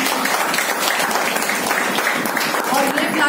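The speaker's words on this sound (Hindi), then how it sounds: "तालियां बजाइए।" An audience applauding at a health awareness program in Boisar, Palghar, a continuous loud wash of clapping with voices mixed in throughout.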